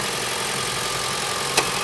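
A 2015 Mitsubishi Outlander Sport SE SUV idles with a steady, quiet, even engine hum, with no other sounds, and a faint brief tick near the end.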